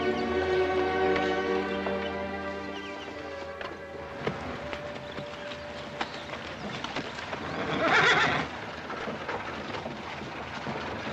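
A horse whinnies and snorts amid steady background noise in a Western TV series, with hooves clopping and a brief swell of rushing sound partway through; no talking.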